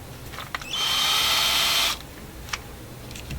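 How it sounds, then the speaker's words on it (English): An electric drill whirs at high speed for about a second, close and loud, then stops, with a few faint clicks around it. "Stick it on the end of my drill here."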